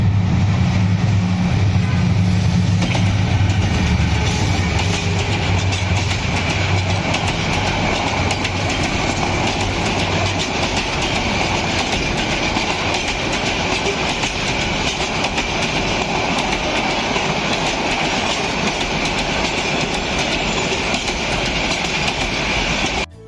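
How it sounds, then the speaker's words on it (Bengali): A train rumbles past steadily with rhythmic clattering of wheels on rails, loud and close throughout, a low engine drone fading slightly at the start. "আমাদের পিছন থেকে ট্রেন আসতেছে"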